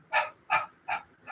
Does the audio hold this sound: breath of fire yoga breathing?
yes